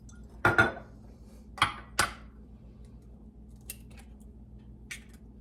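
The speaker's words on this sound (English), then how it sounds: "And we're gonna add 2 eggs." Two eggs added to a chocolate chip cookie dough bowl: a couple of sharp taps and cracks of shell against the bowl with small clicks after, close and quiet with no talking.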